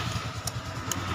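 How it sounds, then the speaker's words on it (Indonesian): A fuel-injected motorcycle engine idling close by, a low rhythmic chugging pulse with a couple of brief sharp clicks on top. "Sambil kita hidupkan motornya ya. Kita starter."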